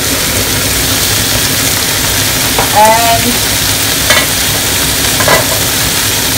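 Beef stir-frying with spring onions and mangetout in a pan, a steady broadband sizzle with a few brief scraping stirs and clinks of a utensil, close and continuous, no talk.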